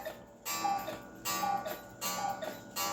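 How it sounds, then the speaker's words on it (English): An 8-day resin cuckoo clock from the late 1960s or early 1970s, freshly serviced, ticks loudly and close up in a steady, even tick-tock rhythm, with no talking. "resin cuckoo clock."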